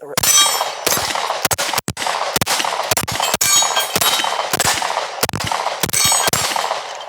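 An HK VP9 A1 pistol fired in a quick string at steel targets, each sharp report followed by a ringing metallic clang, close and loud, about a dozen hits in uneven rapid rhythm.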